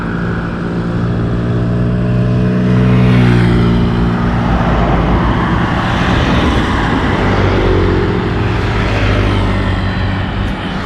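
A Mio MXI 125 scooter fitted with a Speedtuner CVT and 63 g fly ball rollers on a test run, its engine a loud, steady close drone that swells slightly as it revs and holds on.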